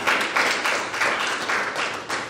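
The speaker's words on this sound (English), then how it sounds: "Another round of applause for her, please." Audience applause at a global summit event: a steady crowd of many hands clapping, fairly loud and sustained with slight swells, no talk over it.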